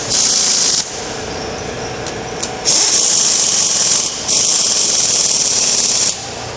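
Nuts being run down onto studs of an EMD locomotive engine with a pneumatic tool, loud bursts of hissing, whirring air-driven rattle in three long runs separated by short pauses, close by.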